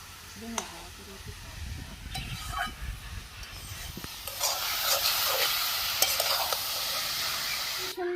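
Cabbage, potato, carrot, peas and green chilli fry in a pan in a village kitchen, giving a continuous soft sizzle with stirring scrapes. The hiss swells louder about halfway through, while a voice talks faintly in the background.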